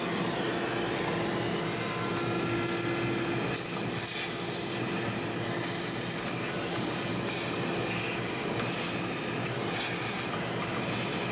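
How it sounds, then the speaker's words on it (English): Shop vacuum sucking broken black plastic debris out of a Hyundai steering column during a steering-noise repair, a steady loud roaring hiss with a constant whine running unbroken throughout. "vacuum all that out, and then put the new piece in"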